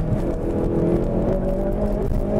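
A Hyundai i30N hot hatch driven hard, its engine note steady and loud with a dense, sustained drone and busy low rumble, the car scrabbling for grip throughout with no talk.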